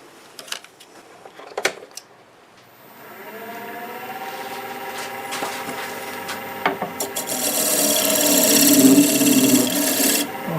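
A freshly sharpened scraper cuts wild cherry spinning on a 1221 wood turning lathe, starting with a few knocks, then a steady rasping hiss that grows louder and harsher toward the end, close up with no talk.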